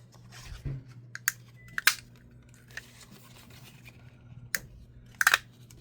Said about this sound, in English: Now I'm just going to cut a bunch of these out.